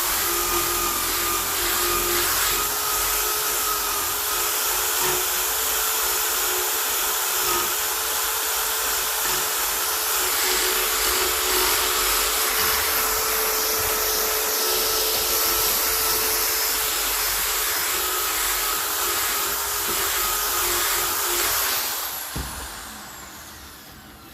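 Wire brush scrubbing rusty Massey Ferguson 35 tractor parts, a steady, loud, continuous whirring abrasion lasting about twenty-two seconds before cutting off abruptly, close and with no talk.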